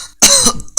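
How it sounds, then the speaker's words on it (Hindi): The animated character Vegito coughs twice in pain in quick succession, harsh and close, with the second cough cut short. "दर्द में खांसते हुए कहता है"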